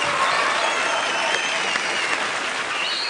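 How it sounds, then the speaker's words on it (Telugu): Audience applause in a television dance show studio after Roja's dance performance, a dense steady clapping crowd filling the whole stretch. "రోజా గారు మళ్ళీ మీకు క్లాప్."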